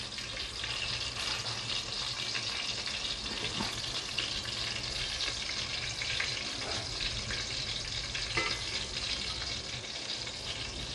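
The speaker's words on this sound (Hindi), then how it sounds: "इतने फ्राई नहीं करने हैं, हाफ फ्राई करने हैं। ध्यान से कीजिएगा, कोफ्ते खुल ना जाएं।" Chicken koftas half-frying in hot oil, a faint continuous crackle and bubbling sizzle with a few small pops, quiet and steady, no talking.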